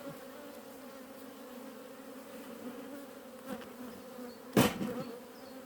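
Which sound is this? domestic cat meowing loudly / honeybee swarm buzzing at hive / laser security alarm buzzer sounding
honeybee swarm buzzing at hive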